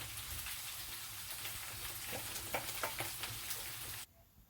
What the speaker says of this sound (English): She put the oil in for the masala, and now she's adding the onions.